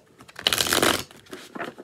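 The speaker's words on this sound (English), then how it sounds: "Let's get back to shuffling" Tarot cards riffle-shuffled once in a quick burst of dense papery flutter lasting about half a second, framed by softer handling clicks and taps before and after.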